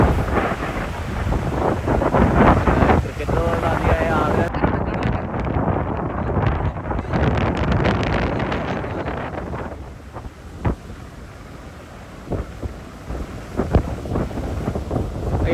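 Strong wind on Alappuzha beach buffets the microphone in loud, broadband rumbling gusts, easing somewhat toward the end, with voices briefly heard underneath.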